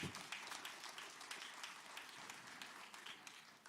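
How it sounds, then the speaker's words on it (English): Audience at a fifth grade graduation ceremony claps in a faint, distant patter of many hands, with louder individual claps standing out, continuing evenly throughout. "That's a good place to clap."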